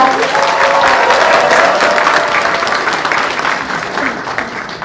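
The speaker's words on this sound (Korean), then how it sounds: "큰 박수로 말씀 전해 듣겠습니다" Loud crowd applause at an outdoor Democratic Party political rally in Changwon, a dense sustained roar of clapping that fades slightly toward the end as a speaker is welcomed.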